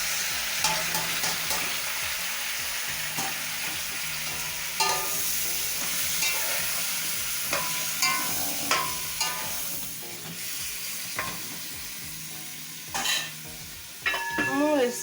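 Tomato simmering in a pan with beef and vegetables, a steady bubbling sizzle broken by repeated spatula scrapes and clinks, close and moderately loud, no voices.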